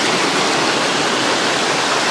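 A creek rushes steadily beside a cave at 40 Foot Falls, a dense, constant broadband wash of flowing water filling the whole moment with no pauses.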